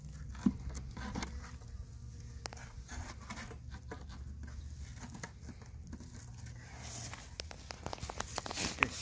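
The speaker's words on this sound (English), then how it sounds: "is there a nest in the bottom of here? Nope, just a cluster of bees." Faint honey bees buzz softly in a continuous hum inside a winter hive, with scattered light taps and rustling close by.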